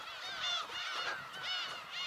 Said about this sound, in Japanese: あっちの方にウミネコの巨大な鳥山ができてます